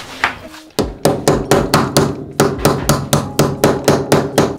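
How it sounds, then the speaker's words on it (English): Small hammer striking a pin punch in rapid, steady metallic taps, about a dozen sharp close blows in a row with no talking. "So we need a pin punch and a small hammer."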